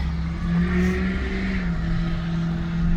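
A 2005 Acura MDX pulls away under steady engine drone, its low hum rising gently in pitch as it accelerates, heard from inside the cabin with no talking.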